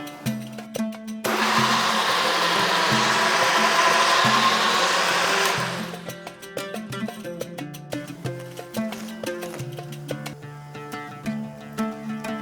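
A blender whirs loudly for about four seconds as it grinds mango with sugar and milk into a pulp. Soft background music plays before and after it.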